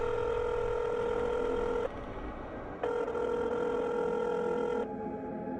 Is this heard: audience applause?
no